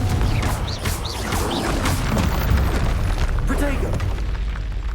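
Booming blasts of the Confringo explosion spell in a Harry Potter video game, rumbling impacts and crashes layered under a voice calling out spells.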